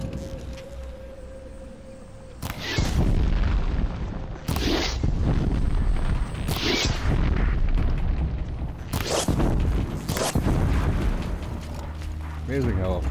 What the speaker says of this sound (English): And we'll blow up his blaze canister.